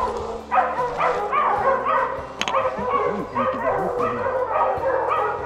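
Bear hunting hounds bark and yip in a rough, irregular series nearby while a person talks over the commotion, with some whimpering mixed between the louder barks.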